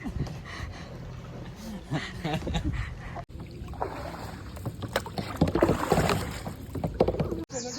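A kayak is paddled on the water at Khavane beach in Konkan, with soft splashes and water swirling against the hull as voices talk and murmur over it.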